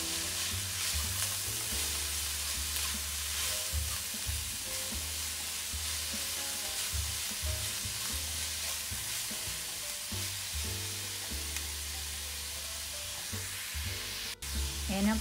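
A seasoned pepper mix sizzles and fries steadily in a pan at home while being stirred, a continuous hiss broken by rhythmic scraping strokes and a sharp clink near the end.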